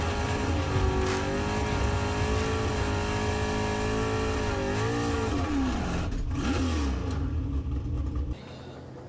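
Drag racing cars at an NHRA Division 1 event at ATCO Dragway in 2022, a loud sustained engine roar with rising and falling revving tones, easing off near the end.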